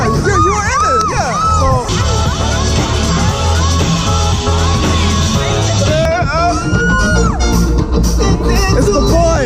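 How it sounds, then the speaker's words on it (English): An excited crowd shouts and yells at a live performance at an outdoor bonfire event, loud and continuous, tangled with music and raised voices. "He's making the whole crowd crazy."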